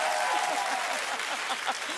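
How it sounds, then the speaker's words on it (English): Studio audience clapping on a daytime talk show, a loud, sustained wash of many hands close and full, fading slightly toward the end. "Oh, keep clapping."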